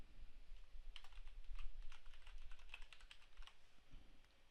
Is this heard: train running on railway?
no